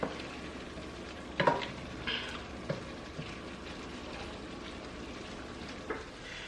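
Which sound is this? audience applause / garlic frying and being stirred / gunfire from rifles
garlic frying and being stirred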